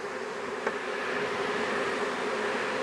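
Honey bees buzzing in an opened beehive, a dense steady close drone that fills the whole stretch with a single faint click near the start.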